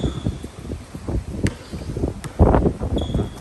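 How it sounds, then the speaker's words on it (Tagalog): Strong wind buffets the microphone in uneven low, rumbling gusts, with one louder blast partway through. "Grabe ang lakas ng hangin."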